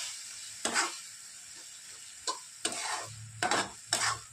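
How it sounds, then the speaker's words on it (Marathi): Crushed peanut powder stirred into a dry chickpea vegetable dish in a pan over the gas, several separate scraping stirs of a spoon over a faint background sizzle, close by. "आता टाकत आहोत शेंगदाण्याचं कूट 2 चम्मच आहे। हे पण छानसं मिक्स करून घ्यायचं आपल्याला।"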